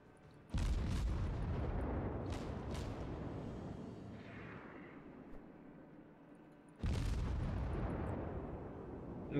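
Heavy booming blasts of naval gunfire from the cruiser Atlanta in World of Warships, two big volleys with a long rumbling tail between them, loud and dense with no talking.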